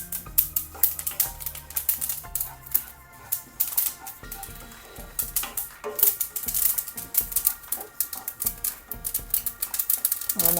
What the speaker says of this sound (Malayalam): പൊട്ടി തുടങ്ങി.